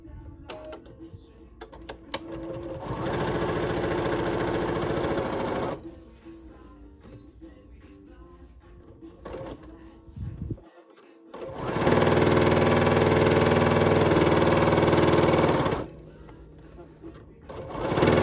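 A sewing machine stitches a sashing strip onto a quilt sandwich for an embroidered crazy quilt block, running in two loud sustained bursts of steady whirring with quieter handling noises and pauses between them.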